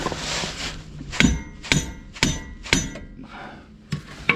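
A big hammer strikes a Yeti steering track bar in a run of sharp metallic blows with a ringing clink, about six hits spaced half a second apart, fairly close.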